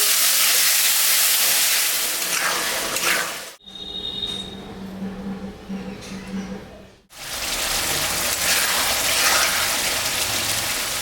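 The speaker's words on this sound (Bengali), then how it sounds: "সামান্য একটু জল দিয়ে দিলাম।" A fish curry in a pan hisses and sizzles loudly as a little water goes in, the steamy roar cutting out briefly before surging back just as strong.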